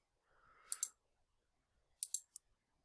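A computer mouse gives two quick clicks, then after a short pause three more crisp, close clicks in a quiet room.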